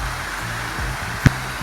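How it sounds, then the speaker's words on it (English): A waterfall at Abeokuta Paradise Nature Park gives a steady, broad rushing roar with one brief knock partway through and music faintly beneath. "this is the beautiful waterfalls right here at the bottom"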